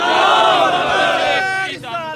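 A large crowd at a religious protest gathering roars back a loud unison chant in response to the Naara-e-Takbeer slogan, a dense, sustained shout of many voices that fades toward the end.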